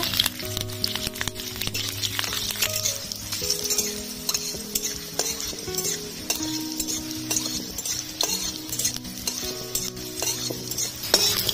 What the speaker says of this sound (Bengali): দিয়ে দিলাম 6টা রসুনের কোয়া, 4টে কাঁচা লঙ্কা, কালো জিরে ভেজে নেব।